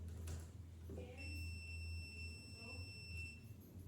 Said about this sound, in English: The reason that beeped there, it was a continuity setting